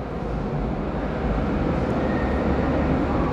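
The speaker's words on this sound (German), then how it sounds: "Der Tram kommt ganz in Blau." A tram approaches through a tunnel in Rostock, a continuous low roaring rumble that slowly builds in loudness with no voices.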